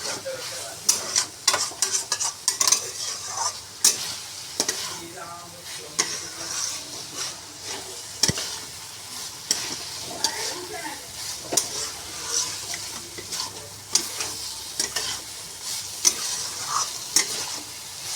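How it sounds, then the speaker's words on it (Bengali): A turmeric-spiced filling is stir-fried and pressed in a pan, with repeated scraping stirs and clatters over a steady background sizzle, close and uneven in rhythm. "চলো এবারে পুরটাকে কষাতে থাকি"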